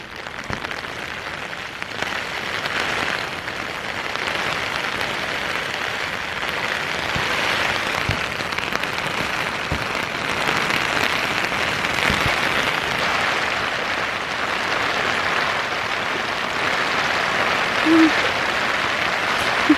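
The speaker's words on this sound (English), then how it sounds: "I love the sound of the raindrops hitting off the window pane." Raindrops patter steadily against a window pane through the night, a continuous soft hiss of rain holding at an even level with scattered louder taps and no voices.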